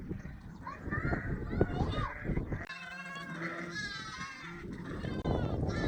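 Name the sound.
sheep and lambs bleating on a farm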